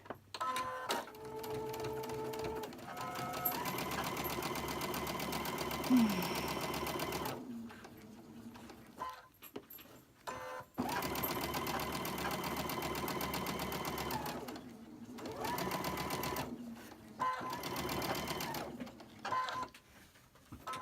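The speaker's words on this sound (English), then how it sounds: "I've pinned both of these, one on each end, and I'm going to sew them." A sewing machine stitching pinned quilt blocks runs in long, steady, close-up whirring bursts with a fast mechanical needle rhythm. Short pauses and soft handling noises separate the runs.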